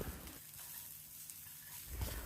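Soft continuous sizzle of Chettinad spices dry-roasting on low flame in a pan, steady and low, with faint stirring scrapes near the end.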